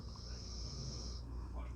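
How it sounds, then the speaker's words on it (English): A dog snores nearby, a faint wheezy rasp through each breath, quiet under a room hum. "I'm sorry about my snoring dog over there"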